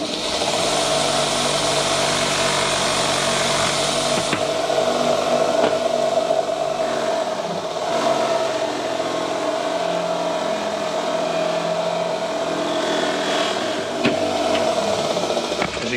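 A bench grinder fitted with a buffing wheel hums steadily as it polishes a Detroit Diesel water pump housing, the motor's continuous whine holding for the whole stretch with slight load changes as metal presses against the wheel.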